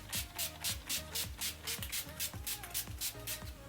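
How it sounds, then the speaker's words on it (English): Quick bursts of NYX Cosmetics spray primer misted over a face, a soft repeated hiss in a steady rhythm of about two or three sprays a second, faint and close. "I will prime my face using this spray primer from NYX Cosmetics"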